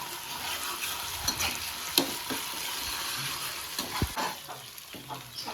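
Ginger garlic paste frying in a hot pan gives a steady close sizzle, broken by a few sharp stirring scrapes and clinks, with no voices.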